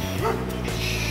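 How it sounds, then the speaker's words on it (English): A dog lets out a quick pair of close, loud barks with a whimpering yip in a kitchen setting, over steady background hum. "Shut up, dog."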